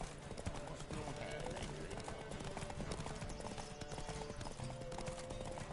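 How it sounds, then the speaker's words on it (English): Horses gallop in a race in The Witcher 3: Wild Hunt, a rapid, continuous clatter of hooves throughout with game music and voices mixed in. "I think he's got the faster horse."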